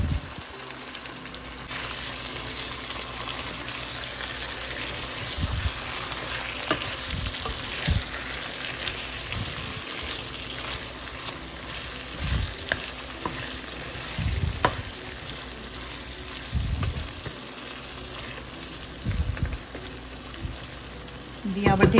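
Mutton fries in a pan with a little hot water added, giving a steady close sizzle broken by repeated scraping and clattering stir strokes throughout.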